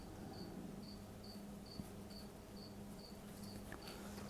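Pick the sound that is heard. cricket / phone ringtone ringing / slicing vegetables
cricket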